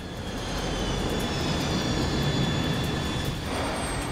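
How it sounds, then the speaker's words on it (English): A Boeing MD-11 airliner's jet engines roar steadily and loudly as it drops too quickly on landing approach, a broad continuous rumble with a thin high whine running throughout. "Now the plane is dropping too quickly."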